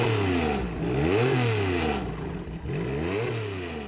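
A car engine at the Salon Privé motor show revs up and down in repeated rising and falling sweeps, loud and close, with a mechanical clatter underneath and no voices.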